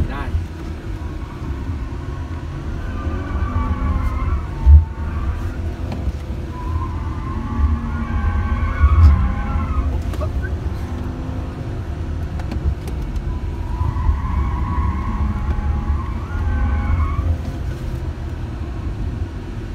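BMW 330e plug-in hybrid driven hard on a hot lap, its engine droning steadily from inside the cabin with rising and falling revs and occasional tyre or bump noise, while someone talks over it.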